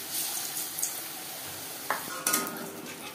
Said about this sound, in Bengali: উল্টে পাল্টে গোল্ডেন ব্রাউন করে ভেজে নেব।